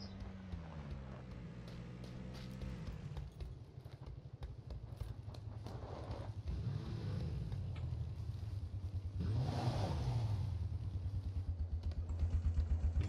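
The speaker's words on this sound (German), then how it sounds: "Ich höre jetzt schon ein Auto" A low rumbling jeep engine runs steadily in the video game PlayerUnknown's Battlegrounds, growing louder toward the end, with a mechanical, game-like quality and no speech.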